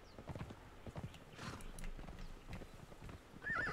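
A horse trots with quick clip-clop hoofbeats in the Conan Exiles video game, ending in a short high whinny, fairly faint in the game's ambience.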